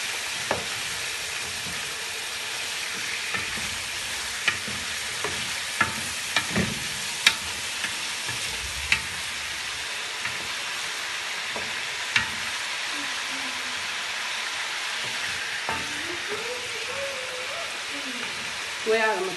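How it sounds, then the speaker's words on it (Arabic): Chicken pieces sautéed in a hot frying pan for an Egyptian-style kabsa, giving a steady loud sizzle with scattered clicks and scrapes of stirring throughout. "نشوح كده الفراخ الاول"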